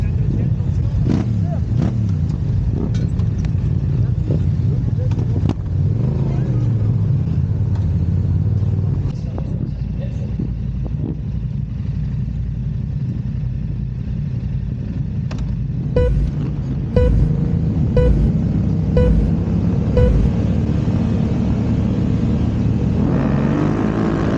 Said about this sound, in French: Mais quel départ moyen de la part de Carbone 23 sur la moto numéro 8